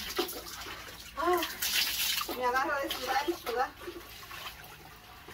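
Clothes washed by hand with water and soap, with splashing and sloshing near at hand while someone talks over it in a loose, uneven rhythm.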